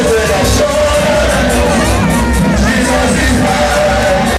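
A crowd cheers, yells and whoops continuously as a groom and bride walk into an arena for their wedding, a loud, dense roar of many voices holding steady throughout.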